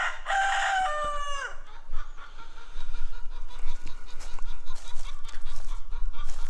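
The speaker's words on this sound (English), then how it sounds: "this is the old chicken coop back here with the old chickens" A rooster crows loudly up close, then hens cluck and murmur steadily in the background with scattered squawks.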